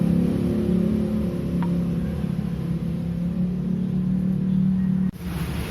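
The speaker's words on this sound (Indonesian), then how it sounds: "Nah, ini mesin saya ya, mesin sprint saya ini yang abu-abu ya." A grey Vespa Sprint scooter engine idling close by, a steady low droning hum with a faint whir that runs evenly throughout before a brief dip near the end.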